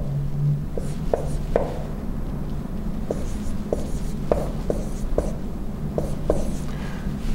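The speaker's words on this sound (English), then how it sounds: "So let's write it out." A pen or pencil writes out words on paper, a run of scratchy strokes and light taps in an irregular rhythm, close and clear with no talk.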